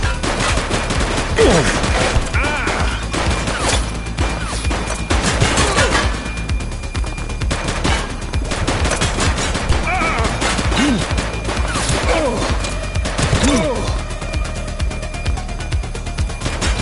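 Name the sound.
gunfire from the video game The Precinct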